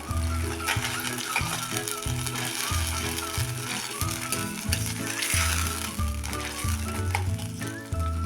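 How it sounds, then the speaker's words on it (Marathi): Tomato puree frying in oil in a pan for a masala egg curry, a loud continuous sizzle with rhythmic scraping and clacking as it is stirred nonstop, close and unbroken, no talking. "टोमॅटो प्युरी पण आपण चांगलं तेल सुटेपर्यंत परतून घेणार आहे सतत हलवून ती आता चांगली परतून घेऊया"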